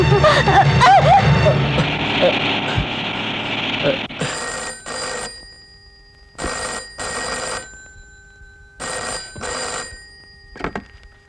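A telephone rings in repeated double bursts of electronic trilling, loud and close, after an opening stretch of mixed music and voices, with quiet gaps between the rings.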